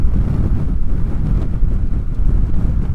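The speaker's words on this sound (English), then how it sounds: "Definitely feel I can feel the wind push the bike around," Wind buffets a motorcycle rider's microphone on a breezy day, a loud continuous low rumbling roar that swells and dips unevenly throughout.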